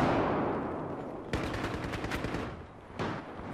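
Battlefield 4 battle scene on PS4, a grenade blast amid rapid clattering gunfire bursts, with a loud rumble fading at the start and repeated sharp crackling volleys after.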